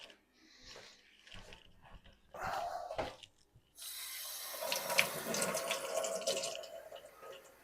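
A hog jowl rinsed under a running kitchen tap, first with intermittent splashes and handling, then a steady close rush of water hitting the meat and sink.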